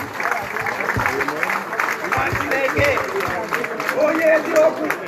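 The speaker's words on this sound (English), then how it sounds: "A round of applause for Hamadike, please" An audience applauds at a live gathering in Toronto held by the IPOB leader, with steady clapping mixed with crowd noise and voices talking over it.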